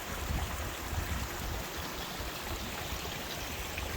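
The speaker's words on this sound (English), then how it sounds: "It's one of the many streams that lead down into the lake." Steady rushing flow of a mountain stream running down into Llyn Idwal in Snowdonia, dense and continuous water noise heard close by without talk.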